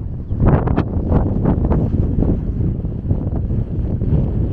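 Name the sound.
wind at a high outdoor site in Iraq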